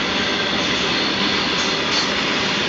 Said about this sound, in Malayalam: ഇത് ഗുഡ്സ് ട്രെയിനാണ്. ഗുഡ്സ് എല്ലാം കൊണ്ടുപോകുന്നതാണ്.